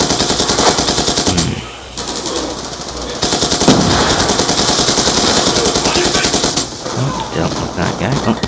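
Loud, sustained automatic gunfire from a Dragon Fire killstreak in a first-person shooter video game, with rapid bursts and brief lulls, close and dense throughout.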